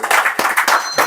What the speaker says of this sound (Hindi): जोरदार तालियां बजाइए।